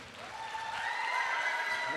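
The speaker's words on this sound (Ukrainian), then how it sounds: "Давайте зустрічайте його оплесками гучними." Audience applause rises at an urban forum in Lviv, a dense steady clapping from a crowd filling the hall, with a faint tonal hum underneath.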